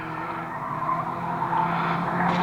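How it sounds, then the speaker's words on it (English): Tyres skid as a race car spins out on the top corner of a short oval at Fleet Raceway, a steady, close squealing and engine drone lasting throughout. "oh, we've lost Dominic to a spin on the top corner"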